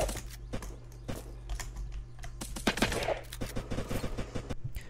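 Rapid gunfire in Unturned PvP combat cracks out in quick irregular bursts and single shots over a steady low hum, with no talking.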